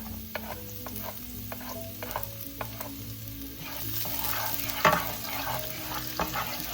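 Garlic frying in hot oil in a pan, a steady close sizzle with stirring clatter and a few utensil knocks, growing busier and louder midway, with no voices.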